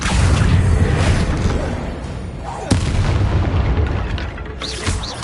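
Spell blasts and explosions in the video game Hogwarts Legacy, a run of loud booming bursts with a sharp crack near the middle and more impacts toward the end, with a voice calling out over them.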